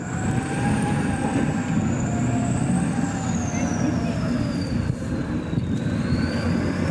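A turbocharged 14.8-litre V8 diesel truck engine drives a 2S1 Gvozdika self-propelled howitzer off-road, a loud, steady, close rumble with a rising and falling turbo whine over it.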